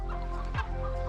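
Chickens cluck on a small farm in Värmland, Sweden, a close burst of clucking over a steady low background hum, brief and without talk.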